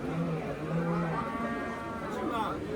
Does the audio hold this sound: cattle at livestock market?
yes